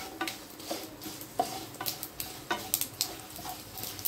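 Sesame, coriander and poppy seeds roast in hot oil in a pan, with a spatula scraping and clinking against the metal in irregular strokes over a soft, low sizzle.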